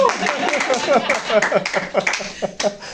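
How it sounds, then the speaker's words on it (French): Audience applause breaks out in a crowd, with quick scattered claps and a few laughs as a voice speaks over the clapping. "applaudissons"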